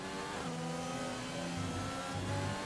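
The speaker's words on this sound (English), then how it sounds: "The car's screaming the whole way" High-revving race car engine from a racing video game set at the Great Britain round of a championship, a steady, loud engine drone with shifting pitch running throughout with no talking.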